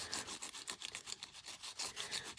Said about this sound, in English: This is probably the painful way to be doing this with this Q-tip.